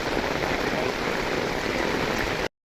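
Heavy village rain with floodwater about, a loud continuous wash of falling and running water that cuts off abruptly just before the end.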